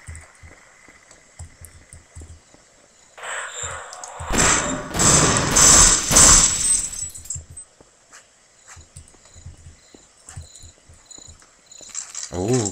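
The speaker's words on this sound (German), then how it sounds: "grillende Zirpen" Crickets chirp in the video game Half-Life: a thin, steady high trill runs throughout. Midway it is briefly covered by a louder burst of broadband noise, then the trill carries on alone with faint low ticks beneath.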